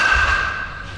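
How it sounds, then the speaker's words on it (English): A Marucci CatX composite USSSA bat strikes a baseball in a batting cage: one sharp, loud ringing crack at the start, then a sustained metallic ping that slowly fades over about a second. "first swing is the Marucci CatX Composite"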